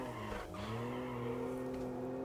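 Tires squeal and skid as a car drifts sideways in a racing video game, a sustained screech over the engine drone, loud and close throughout.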